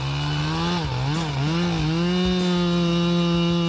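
A chainsaw cuts into a huge tree, its engine snarling loud and close with a steady high whine that dips briefly under load before settling back to full revs.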